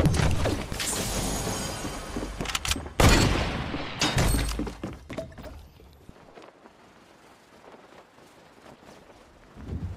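Sharp gunfire from a hunting rifle in the Fortnite video game: loud broadband cracks near the start and around three and four seconds, with mechanical clatter between, then a quieter, sparser tail of small game noises.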